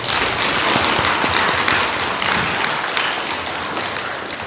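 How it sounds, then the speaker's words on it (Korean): Loud, dense applause fills a hall during a Saturday Buddhist dharma service at a temple, many hands clapping in a sustained, rain-like patter that tapers a little toward the close. "큰 박수 한번 부탁드립니다"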